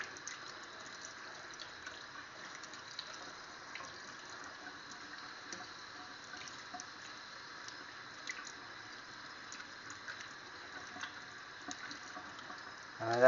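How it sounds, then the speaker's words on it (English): Water runs steadily from a tap as a cleaned trout is rinsed, a faint continuous splashing stream with small drips and fluctuations, and no one speaks. "I'm just going to rinse it out."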